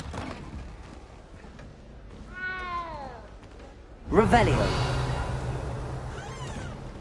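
A cat in a video game lets out a single drawn-out meow midway, then a louder burst of in-game noise follows. Speech is heard early on.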